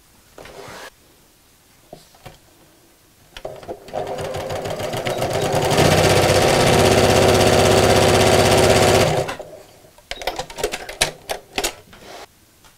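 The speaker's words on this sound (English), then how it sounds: "it's this side I needed to sew down" A sewing machine stitches the side seam of a picnic blanket, starting after a few handling clicks, running at a steady fast whirring rhythm for about five seconds up close, then stopping, followed by fabric rustling and small knocks.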